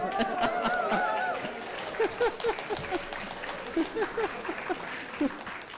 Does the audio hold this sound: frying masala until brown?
no